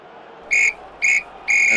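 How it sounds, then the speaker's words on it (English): A referee's whistle ends a 1975/76 football match between Manchester United and Spurs with three short, shrill, evenly spaced blasts, loud and clear over a faint, quiet background. "Full-time whistle goes."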